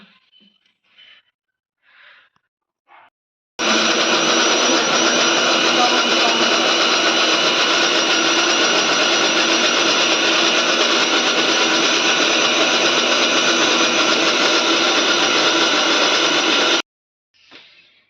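A mixer grinder whirs loudly for about thirteen seconds, grinding a masala of pepper, garlic and tamarind, a steady motor roar that starts and stops abruptly, with faint speech before and after.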